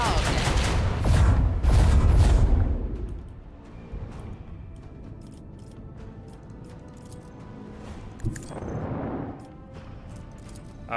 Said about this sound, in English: The macro cannon sing their twisted song.